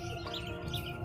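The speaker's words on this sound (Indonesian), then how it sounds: "Ada burung, nggak tahu ini burung celengkuk. Ada parkit situ." Birds chirp and tweet in quick, bright calls at a bird market in Palembang, with parakeets among the caged birds; the calls are close and clear over a steady background hum, with no talking.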